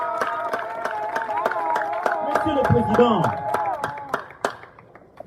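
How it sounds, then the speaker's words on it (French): An audience claps in a steady, rhythmic beat at a birthday celebration for Olive Lembe Kabila, the claps sharp and even beneath a voice speaking French. "je demande à l'assistante d'applaudir frénétiquement"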